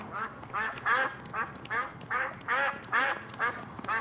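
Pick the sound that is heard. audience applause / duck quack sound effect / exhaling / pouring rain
duck quack sound effect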